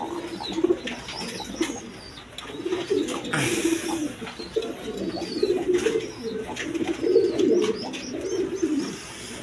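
Pigeons coo repeatedly in low, throaty rolls, several birds overlapping, with faint chirps and background noise around them.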